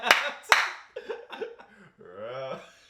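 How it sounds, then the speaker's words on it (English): A few sharp hand claps ring out close to the microphone, two crisp ones near the start followed by softer slaps, with casual talking and a drawn-out vocal sound filling the rest. "Round of applause"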